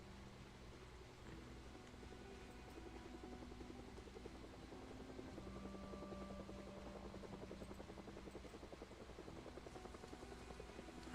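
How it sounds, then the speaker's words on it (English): A helicopter in Project Zomboid flies overhead, a steady, faint rotor chop that thrums continuously and swells slightly midway without any speech. "Helicopters should be coming today."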